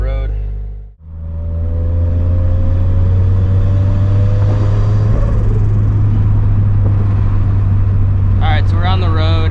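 A turbocharged Scion FR-S runs on the road with a loud, steady engine drone and a rising whine in the cabin, near and continuous, with brief voices toward the end.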